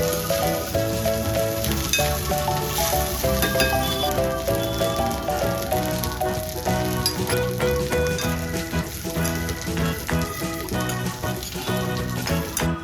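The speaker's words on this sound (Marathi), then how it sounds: "आता खोबऱ्याचे काप घाला आणि छान परतून घ्या." Continuous sizzling of coconut slices roasting in a hot pan for chutney, steady throughout, blended with sustained tonal background sound.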